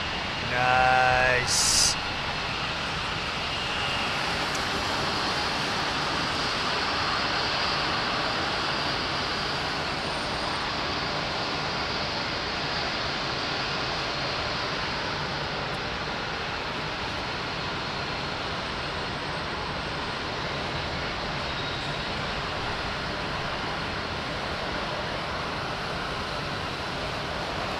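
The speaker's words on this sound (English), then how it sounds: "You love that with the synchronization of the props, man." A propeller aircraft with synchronized props gives a steady, even drone that holds at moderate distance for the whole stretch, after a brief louder burst at the start; a voice speaks briefly.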